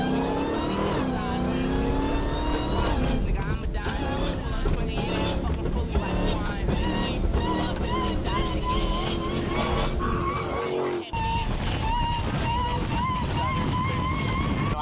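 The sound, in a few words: Dodge Hellcat Redeye engine revving with supercharger intake whine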